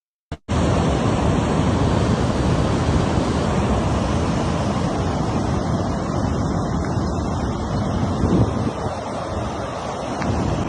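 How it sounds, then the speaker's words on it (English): Water bursting through the breached Belgorod reservoir dam, a loud, continuous roaring rush of water heard from nearby, steady throughout with heavy wind buffeting, and no voices. "you can see that it's really bursting there, right? The water is flowing out."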